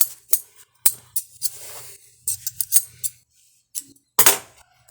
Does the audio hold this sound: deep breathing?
no